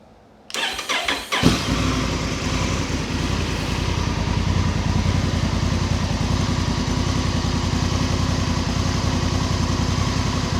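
A 2024 Honda Africa Twin fitted with a Termignoni titanium exhaust starts up and settles into a loud, steady idle with an even, throbbing pulse, heard alone and close.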